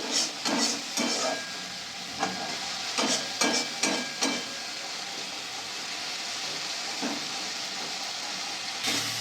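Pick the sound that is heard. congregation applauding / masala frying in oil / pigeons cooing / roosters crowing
masala frying in oil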